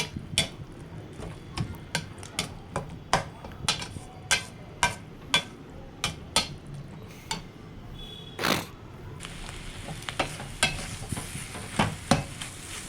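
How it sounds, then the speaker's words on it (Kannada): Egg bhurji with drumstick leaves frying in a pan over low flame, a soft sizzle beneath regular sharp scrapes and taps of a spatula stirring, roughly one every half second, close up with no voices. "ಲೋ ಫ್ಲೇಮಲ್ಲೇ ನೀಟಾಗಿ ಮಿಕ್ಸ್ ಮಾಡ್ಕೊಳ್ಳಿ"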